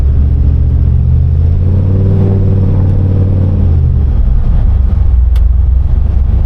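A car with a 3200 stall converter and single-disc billet setup revs its engine, a loud, deep rumbling roar that climbs in pitch and then settles back, close up with no talking.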